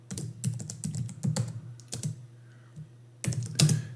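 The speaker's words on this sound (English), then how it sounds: "Having trouble with my typing here" Fingers tap on a computer keyboard in quick irregular bursts of close, soft clicks, with a brief pause midway before a final flurry of keystrokes.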